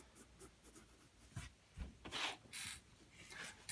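Pencil drawing being erased on paper, with short scattered rubbing strokes, soft and close, some brisker scrubs near the end, and no talking.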